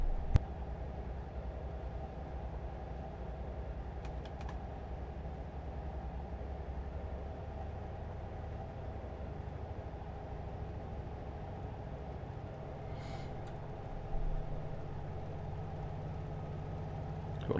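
A Pendolino train runs steadily in Train Simulator 2020, giving a continuous low rumble and hum of the electric loco with faint rail clatter, mostly alone with a couple of brief clicks.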